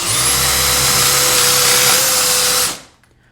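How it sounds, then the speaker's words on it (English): Power drill boring a hole through cabinet stock held in a clamp, a loud steady whine running close for nearly three seconds before it stops and quiet follows. "usually I'll just take my thumb and hold this side and just drill this hole."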